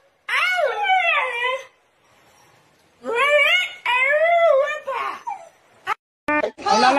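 A dog whimpers and whines in long, wavering high-pitched cries, two drawn-out bouts separated by a pause, followed by a few short sharp sounds near the end.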